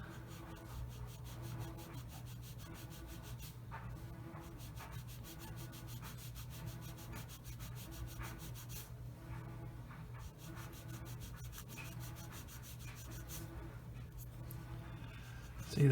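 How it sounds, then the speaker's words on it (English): A plastic part from a Revell 1/48 F-15C Eagle model kit is worked with a 400 grit sanding stick, giving a continuous close, scratchy rubbing in quick back-and-forth strokes. "Now I use a sanding stick to sand it down"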